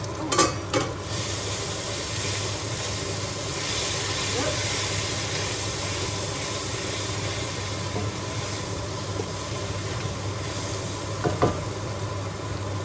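A pot of smoked salmon soup simmers and steams with a continuous soft hiss, interrupted by a few clinks from stirring, heard close up.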